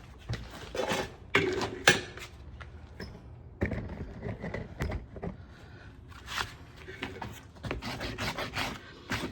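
A hand rasp files down a horse's hoof heels in short, rough scraping strokes, irregular in rhythm and close, with small pauses between bursts and no clear talk.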